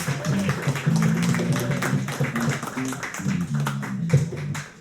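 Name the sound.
audience applause for Mitch and Anton McKecken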